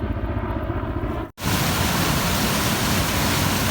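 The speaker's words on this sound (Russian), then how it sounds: "Река Алматинка. Прям такая мощная. И туда вниз идет, из горы падает." The powerful Almatinka river roars as it rushes down from the mountains near Almaty, Kazakhstan, a loud, dense, continuous wash of water with a brief cut partway through.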